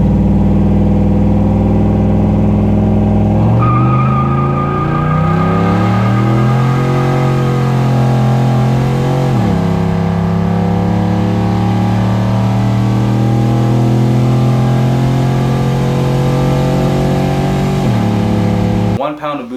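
A turbocharged 5.3 truck engine roars loud and close with its tires spinning, its pitch repeatedly sweeping up and dropping back as the revs climb and fall over a sustained, heavy drone.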